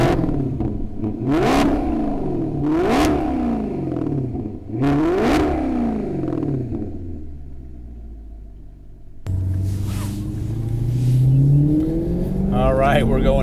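A 2015 Maserati GranTurismo S engine revs hard three times, each rise and fall ringing through the exhaust, then settles into a deep rumbling pull; a voice talks over it.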